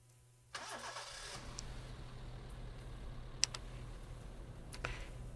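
A car engine in Gore Screaming Show turns over and settles into a steady low idle-to-drive hum, faint and distant, with a few light clicks on top and no voices.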